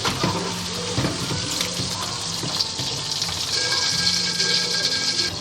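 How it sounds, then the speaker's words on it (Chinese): King oyster mushrooms slipped into hot oil in a wok give a dense, continuous sizzle and crackle, close and fairly loud throughout. "接着我们用余温把这个杏鲍菇给它滑一下油哈"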